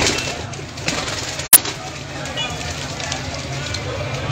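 Pigeons coo softly among a crowded loft, with a constant rustling hiss, a sharp click near the middle and people talking over the birds.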